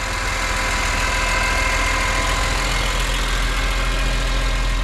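A warmed-up BMW E46 M3 with an S54 engine idles steadily with an even low rumble, close and continuous, with no voices.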